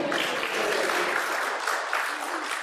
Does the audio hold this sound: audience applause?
yes